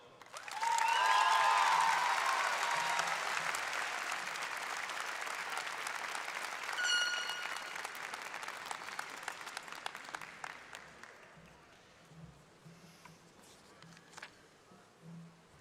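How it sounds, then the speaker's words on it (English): At a high school graduation ceremony, a large crowd applauds the graduating class. The clapping comes in loud and dense, then thins over several seconds into scattered claps and faint footsteps. "let's have one more round of applause for our graduating class of 2026"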